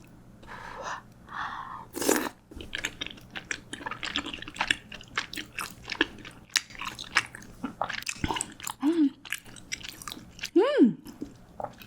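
Spicy Korean tteokbokki in broth being eaten close up, with wet chewing, slurps and soft mouth sounds running steadily throughout, plus a couple of sharp gasps or sniffs.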